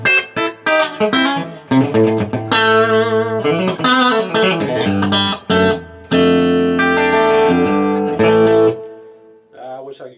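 Electric guitar in split single-coil mode plays chords and single-note phrases through a modded Marshall JCM800 2210 amp, loud and close with a driven, slightly reverberant tone, then stops abruptly and leaves a short ring-out.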